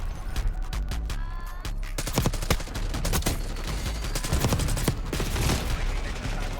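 Dense rapid gunfire from the Jackal PDW in Black Ops 6, with bursts of automatic fire and overlapping shots crowding together, loud and close throughout.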